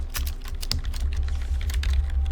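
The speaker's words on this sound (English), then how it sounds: "as I was typing to chat" Rapid clicking of computer keyboard keys as a caster types to chat during a Dota 2 league match, a steady run of close, crisp keystrokes over a low background hum.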